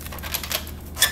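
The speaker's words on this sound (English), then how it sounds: "Let's get a shuffle here." Tarot cards shuffled by hand during a reading, a quick series of soft riffling flutters and taps ending in a sharper snap, close and alone.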